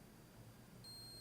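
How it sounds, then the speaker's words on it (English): A short, faint electronic beep, about half a second long, comes from the Perun optical unit in a G&G ARP9 airsoft gun when it is set to its precocking setting. It sounds over a quiet background hiss. "on 9 it will beep because this indicates the precocking power"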